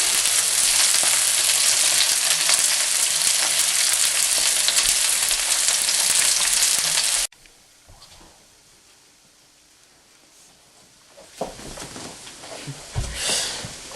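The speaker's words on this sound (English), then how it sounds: "While the vegetables are frying, beat 6 huevos in a bowl." Vegetables fry in a pan for an omelette, a dense steady sizzle for about seven seconds that then cuts to a quiet room with faint clinks and rustles.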